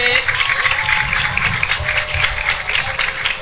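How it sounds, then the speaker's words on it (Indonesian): Children applauding at an outdoor Barongan folk performance in a village, a busy patter of many small hands with crowd chatter and voices underneath throughout. "Tepuk tangan adik-adik."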